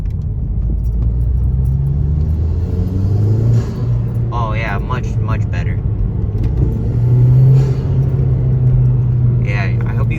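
A Mazdaspeed 3 with a K&N intake runs with a steady, deep, close engine rumble that swells slightly toward the end as it is revved, while someone talks over it throughout.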